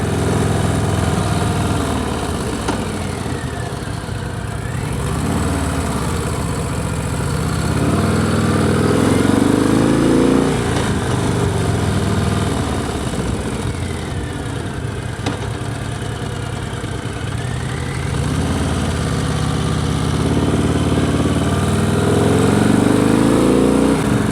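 A Harley-Davidson motorcycle engine rumbling loud and close while being ridden, a steady throaty drone with gentle swells in revs throughout, heard alone.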